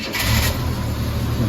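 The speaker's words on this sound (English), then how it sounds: "Let's just hear the old 6 firing up. 3 litre." Old 3-litre six-cylinder car engine starting up, a quick crank catching into a loud, rough roar that settles into a steady running rumble, close by.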